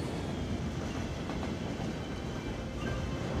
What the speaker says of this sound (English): trains continuing to run